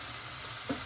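Spices stirred into a sizzling garlic-ginger paste frying in a pan for lentil and mixed vegetable soup: a steady, close hiss of frying with a brief scrape of stirring near the end, no voices.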